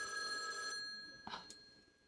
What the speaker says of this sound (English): Somebody calling our phone right quick.